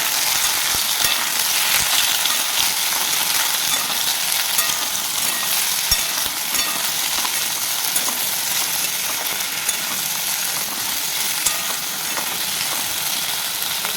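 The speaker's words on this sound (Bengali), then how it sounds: "কেটে রাখা আলু কচু আমি তেলের মধ্যে দিই তেলে ভালোভাবে মেরে নেবো" Cut potatoes and taro frying in hot oil, a loud, continuous sizzle and hiss held close and steady throughout with occasional small crackles, no talking.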